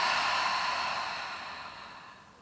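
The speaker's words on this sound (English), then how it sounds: "Exhale through the mouth." A long, soft exhale through the mouth during a yoga breathing exercise, a single breathy whoosh that slowly fades over a couple of seconds, close and quiet.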